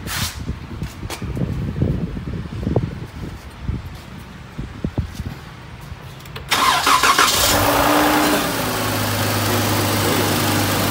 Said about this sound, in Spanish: Pero pues ahí está ya el carro ya arrancado, como pueden ver.